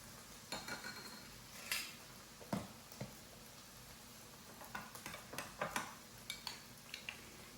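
Spoon stirring cornstarch into very cold milk for fettuccine Alfredo, giving soft scraping swirls and a string of light clinks against the dish, close by and quiet, with no talking.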